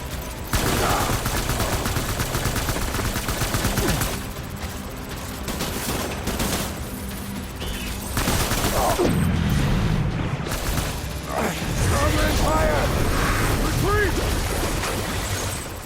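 Enemy gunfire in the video game Death Stranding: sustained rapid shooting and rattling bursts, loud and close, continuing for many seconds amid game noise and occasional speech.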